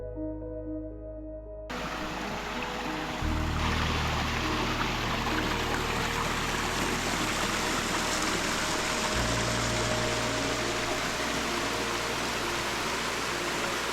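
Terrace Creek flows along the Pine Ridge Trail in Big Sur, giving a steady, broadband rush of water that starts after a brief quieter moment and holds constant and close, with no talk.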